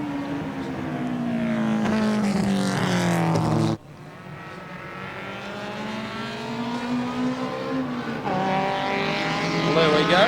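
Race cars in the 1987 Bathurst 1000 motor race roar past as engines rise and fall in pitch, a loud continuous drone with changing gears and passing cars.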